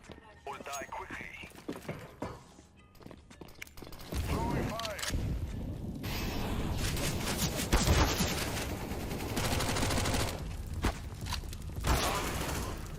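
Rapid bursts of gunfire from a CS:GO match ring out in quick clusters with clattering mechanical sounds, loud and close. A voice talks over the shots at times.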